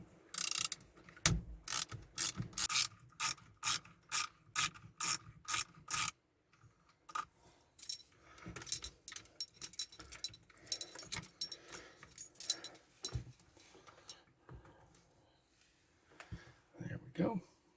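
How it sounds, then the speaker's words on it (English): Keys jangle and metal parts click and rasp as an ignition cylinder is worked out of a loose tilt steering column on a full-size Jeep Grand Wagoneer, with a burst of rhythmic rattling early on, then scattered clinks and scrapes under intermittent talk. "We also need to take out the ignition cylinder"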